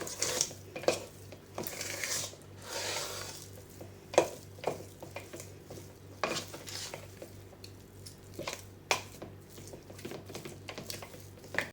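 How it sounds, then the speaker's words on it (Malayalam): Jackfruit ada batter with small chopped coconut pieces being mixed by hand or spoon in a bowl, close, soft irregular scraping and squelching strokes with occasional knocks against the vessel, no talking. "എല്ലാം ഒന്ന് നന്നായി ഒന്ന് മിക്സ് ചെയ്യുക."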